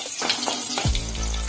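Chopped small onions with cumin and fenugreek hit hot oil, bursting into a steady loud sizzle after a moment of quieter kitchen clatter, then frying on continuously.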